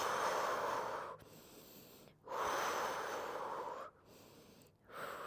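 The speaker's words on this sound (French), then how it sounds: "j'inspire, j'expire, je fais des battements avec les bras et avec les jambes" Close, loud breaths during a Pilates exercise, long airy inhales and exhales alternating in a steady rhythm with short pauses between, heard alone without talk.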